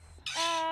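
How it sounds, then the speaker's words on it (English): A parrot lets out a single loud, harsh, raspy squawk, close by and over in under a second. "While I'm not sure what the bird just said"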